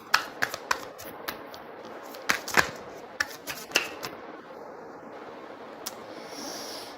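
Tarot cards are shuffled by hand in a run of crisp riffling flicks and taps, close and fairly loud at first, then quieting into soft rustles with a later lone snap, with no one speaking.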